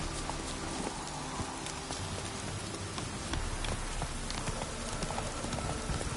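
A horse galloping in The Witcher 3, a fast continuous clatter of hooves that runs steadily and loudly throughout.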